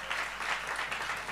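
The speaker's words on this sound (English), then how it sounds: "Give them a big clap." A church congregation gives a round of applause, a soft, even wash of many hands clapping at a distance for a second or so.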